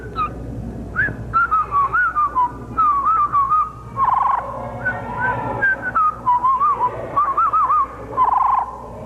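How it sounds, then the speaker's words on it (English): A parrot whistles a melodic tune in short warbling phrases, each rising and falling, repeated with brief gaps over about nine seconds, close and clear with no talking. "You want to whistle your tune for us?"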